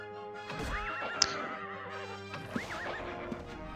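A Blightmare, a caster horse in the Ultima Online video game, lets out two wavering whinnies over a low rumble, with a few sharp hoof clops between them, moderately loud.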